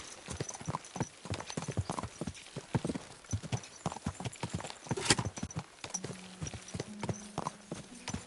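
Horses' hooves clip-clop steadily in a video game, a brisk, continuous rhythmic clatter of close hoofbeats running the whole time, with a low sustained tone joining near the end.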